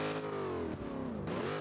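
A 703-horsepower V8 car engine in a driving video game, running hot, revs loudly and continuously, its droning pitch dipping briefly and then climbing again.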